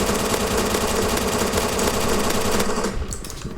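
Rapid automatic gunfire from a Roblox first-person shooter, a dense, continuous loud burst that runs for about three seconds before cutting off into a quieter tail.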